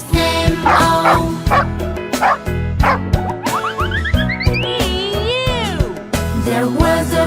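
A dog barks and yips repeatedly within a children's sing-along about a farmer's dog, the loud barks taking the place of sung notes over bright music, with rising whimper-like tones in the middle.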